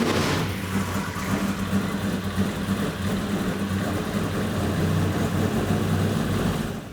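A car engine freshly fired up on Performance Plus oil runs steadily at idle, a throaty low rumble held close and continuous with no talk over it.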